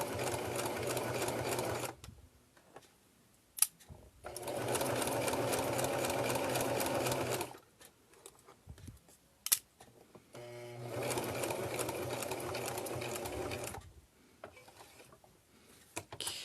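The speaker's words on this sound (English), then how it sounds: "And I'm going to reverse first. Just a few stitches." A sewing machine stitches a fabric coffee sleeve in three sustained runs with quiet pauses and brief clicks between them, including a short reverse stitch, close and clear.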